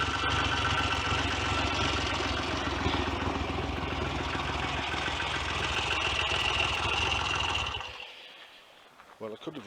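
Triumph Trident T160 triple-cylinder motorcycle running after an electric start, a steady close engine drone with a rumbling low end that cuts off abruptly near the end, followed by quiet clicks.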